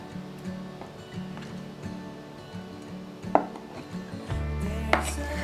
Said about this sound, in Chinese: 今天的分量用3片就好，给它斜切对角形